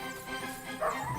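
Dog barking and yipping in the medieval game Kingdom Come: Deliverance II, a short run of close, excited yaps under a busy game soundscape with no talk.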